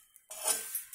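A spoon scrapes and clinks against a bowl while roasted dal and chana are mixed with salt and spices for a winter snack mix, a single short close stir after a brief near-silence.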